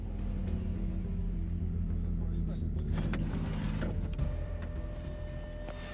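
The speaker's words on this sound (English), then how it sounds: "On a straight stretch of road, the Mad Max vehicle now reaches 100 kilometers per hour." A Bentley converted into a Mad Max style tank drives down a road, its engine a continuous low rumble with road noise and a few sharp clatters and rattles.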